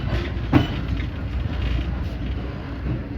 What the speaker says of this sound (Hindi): स्लो स्लो ट्रेन यहाँ से मूव हो रही है।